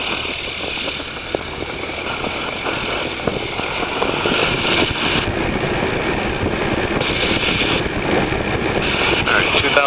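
A small aircraft engine revs up to 2,000 RPM during a run-up, a loud, steady droning roar with buffeting wind across the microphone that holds throughout.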